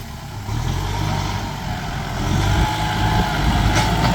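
A Kubota M6240 tractor engine runs steadily at close range, a low continuous drone that rises slightly in loudness partway through, with no talk over it.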